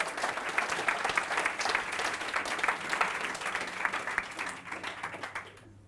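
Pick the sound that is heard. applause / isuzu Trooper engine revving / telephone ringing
applause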